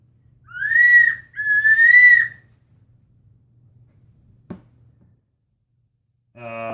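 A Duck Lander duck call blown to imitate a wood duck's whistle gives two loud, rising squealing whistles in quick succession. A faint click follows after a pause, then a short voice at the end.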